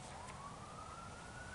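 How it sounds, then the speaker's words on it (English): A siren wails faintly in the distance, one thin tone slowly rising over a low background hum. "Got an alarm going, or a siren going on down there somewhere."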